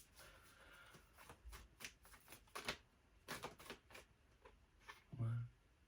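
Tarot cards being shuffled by hand, a series of quick riffling bursts and soft slaps in uneven rhythm, close and fairly quiet, with a voice talking softly in places.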